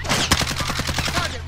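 A sniper rifle gunshot in the shooter game Warzone, one sharp crack standing out early in the clip over a rapid rattle of other gunfire, all loud and close.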